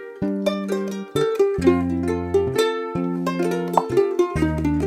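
Ukulele plucking the tabs of La Llorona, a Spanish-language song, in a slow picked melody with clear bass notes and ringing higher strings, close and alone without voices.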